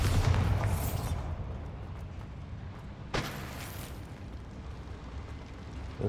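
In a video game, a Bombarda blast spell goes off in a mine: a heavy rumbling boom opens the clip, then a second sharp burst arrives about three seconds later, each fading into a low roar.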